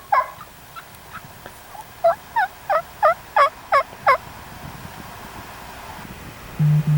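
A wild Merriam's turkey on Nebraska public land sends out a run of loud, close gobbling bursts in quick succession, followed by a low steady hum near the end, with no voices.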